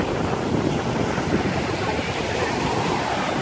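Ocean surf at a Florida beach rolls in as a loud, constant wash mixed with gusty wind buffeting the microphone, with no talking.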